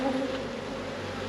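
Honey bees in a rescued, queenless hive buzz steadily in a dense, close drone with no pauses.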